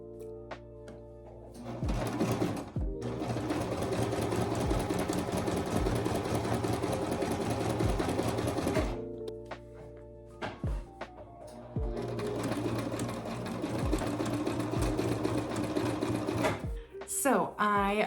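A sewing machine stitches a quilted block for a pine-needle scented pillow, running in two long steady bursts with a short pause between, loud and close, with faint voice at moments.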